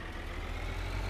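A tractor engine idles in Farming Simulator 2013, a low steady rumble with a faint droning hum, constant and unhurried, with no voices.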